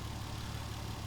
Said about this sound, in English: Engine runs so nice and so fresh.